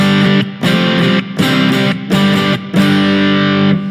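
Stratocaster electric guitar played through an overdrive pedal: loud, gritty distorted chords struck in four sustained bursts separated by brief choked gaps, with no voices.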